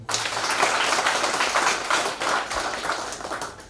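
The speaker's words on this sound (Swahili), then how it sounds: "jipigie makofi." A church congregation clapping together, a dense, loud burst of many hands applauding that runs steadily for a few seconds with only slight dips, no voices over it.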